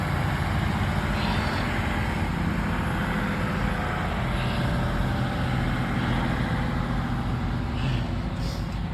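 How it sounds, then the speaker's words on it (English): A garbage truck rumbles past in a steady low drone that stays loud and close throughout, with faint higher clatter on top and no voices. "The garbage truck is coming through."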